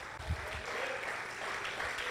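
A church congregation applauding during a sermon, a faint, steady wash of many hands clapping at a distance without a clear break.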